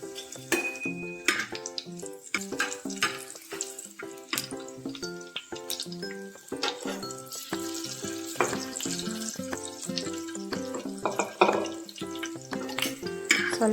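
Two green chillies frying in hot oil for puliyogare, a steady crackling sizzle with sharp pops and bubbling throughout, close and fairly loud, no voices.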